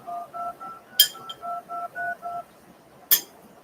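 A phone number is dialed on a telephone keypad, producing a quick sequence of about nine evenly spaced DTMF beeps, clear and close, with two sharp clicks breaking in.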